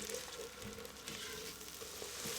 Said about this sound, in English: Give everything a good mix and you are going to let your onion get nice and tender for a few minutes.